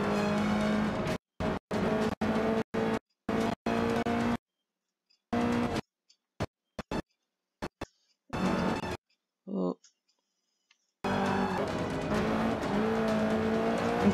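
A family car's engine drives in the racing video game Forza Horizon 5, its loud revving broken into repeated bursts with abrupt silent gaps between them.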